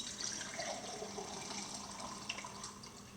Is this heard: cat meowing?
no